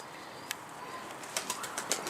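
A homing pigeon with tape on one wing flaps its wings, giving a few soft, quick fluttering bursts against a faint outdoor background.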